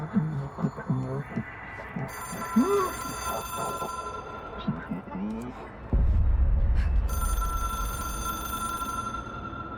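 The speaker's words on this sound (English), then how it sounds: "It is a phone." Telephone ringing in the video game Control: a steady electronic ring in two bursts over a low hum, with voices talking in between.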